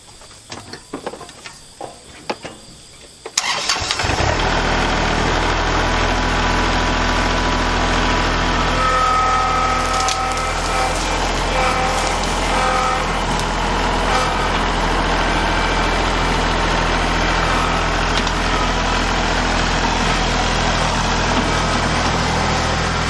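A tractor engine turns over after a few faint knocks, then settles into a loud, steady low idle that runs nearby and without a break, with no talking over it.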